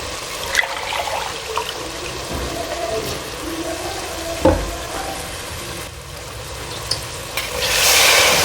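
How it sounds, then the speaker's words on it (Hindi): Water pours and trickles into a pot of rice and peas for matar pulao, a steady liquid wash with a few clinks and stirring sounds, fairly close in a home kitchen. "तो पानी मैं इसमें डालूँगी"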